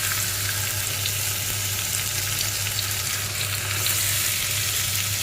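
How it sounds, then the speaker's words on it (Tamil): Tomatoes frying in oil in a pan for a tomato ginger chutney, a steady close sizzle that holds even and continuous throughout with no talking. "நல்ல சாஃப்ட் ஆகிற வரைக்கும் நம்ம தக்காளியை ஃப்ரை பண்ணிக்கலாம்."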